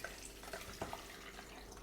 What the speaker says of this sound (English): strain the sauce into a clean saucepan